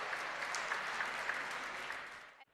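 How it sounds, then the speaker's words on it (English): An audience at a film festival grand finale applauds in a steady, full wash of clapping that holds evenly, then cuts off abruptly at the end. "A round of applause."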